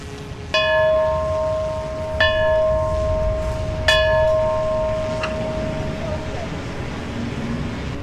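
A ceremonial bell tolled at a fire department's September 11 twentieth-anniversary remembrance ceremony, struck four times at slow, even intervals, each stroke ringing out and decaying over a low outdoor background murmur.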